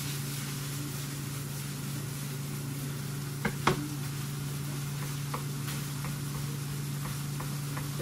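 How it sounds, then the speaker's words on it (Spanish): Taco meat cooking slowly on a big pan or griddle, a steady, close sizzle with an underlying hum and a few light taps of a utensil. "Y ahí te vas cocinando la carnita poco a poco."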